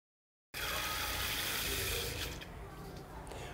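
Warm water pours in a steady, close rushing stream over 400 grams of black urad dal, starting abruptly after a brief silence and easing slightly in the final second.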